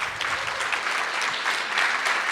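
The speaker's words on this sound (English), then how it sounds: "Please give her a round of applause." An audience at a senior hall of fame award ceremony applauds with dense, continuous clapping at moderate volume, holding steady throughout.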